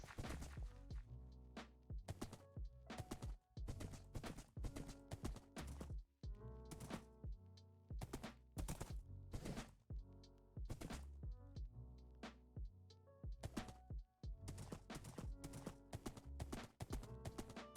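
Horse hooves clip-clop in the Minecraft video game, a fast, steady run of faint thudding beats with brief pauses, quiet and without talk.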